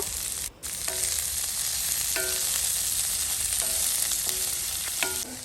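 Onions and curry leaves fry in oil with whole garam masala, cinnamon, cloves and fennel in a pan for chicken pepper fry, giving a loud, steady close sizzle with a few light metallic stirring clinks.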